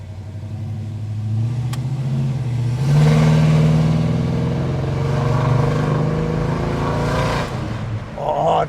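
A 1985 Chevy Monte Carlo engine burbles and revs through its exhaust, rising to a throaty roar and settling back, loud and close.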